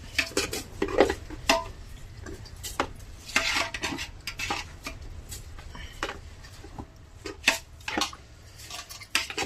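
Rice for seven or eight people is stirred in a large metal cooking pot, with repeated clanking and scraping strokes of a utensil against the pot over a low background hum.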